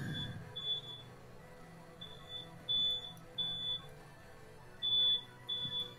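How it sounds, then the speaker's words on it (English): A smoke alarm chirps in repeated short, high electronic beeps, quiet and somewhat distant, arriving in irregular pairs and bursts over a low background hum. "Eric, is your smoke alarm going off again?"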